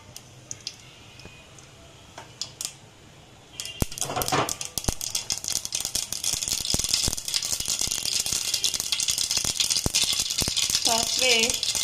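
Mustard seeds spluttering in hot oil for a tempering, quiet at first with a few pops, then a sudden loud burst of dense crackling and rapid popping that continues close up.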